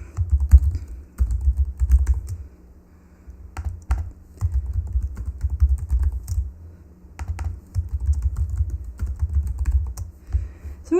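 Someone types code on a computer keyboard, a close, steady clatter of keystrokes in rapid flurries separated by brief pauses.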